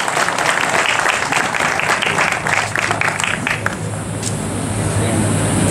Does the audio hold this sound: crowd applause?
yes